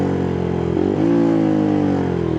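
A rare motorcycle's engine hums steadily while being ridden, loud and close, with a slight pitch rise partway through as the throttle changes.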